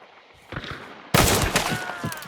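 Gunfire in Hunt: Showdown: faint distant shots at first, then a sudden loud close burst of rapid overlapping shots with echoing tails, no talking.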